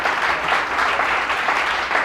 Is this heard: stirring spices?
no